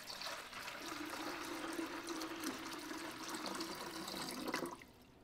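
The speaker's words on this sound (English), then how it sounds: "we're gonna pour it up into the ice maker to the max fill" Purified water pours from a pitcher into a nugget ice maker's reservoir, a continuous close, soft gurgling splash lasting several seconds before stopping abruptly.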